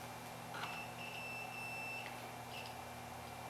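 A continuity tester beeps while probing cleaned bridge contacts on a 1965 Gibson Melody Maker guitar, giving a few short, thin electronic tones over a steady low electrical hum, fairly faint and close.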